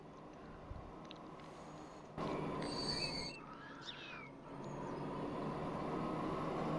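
Trains running in the city-building game Transport Fever during a USA space race mission, with a steady low rumble of rail traffic and passing vehicles in the background and brief brighter whooshes over the continuous noise.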